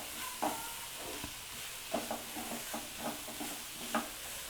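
Cabbage frying in a pan with turmeric stirred through, a soft steady sizzle under a handful of clear scraping strokes of the spoon against the pan, close by with no voices.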